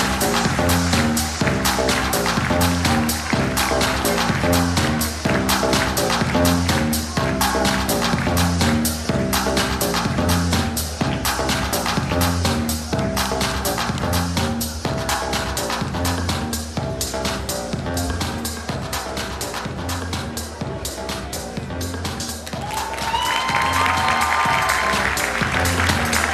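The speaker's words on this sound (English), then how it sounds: "give them a huge round of applause" Applause from a concert audience that a performer has just asked to cheer his band, with dense clapping mixed with musical tones, cheering and crowd noise, loud and sustained for the whole stretch.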